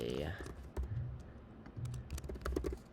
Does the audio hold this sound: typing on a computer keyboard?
yes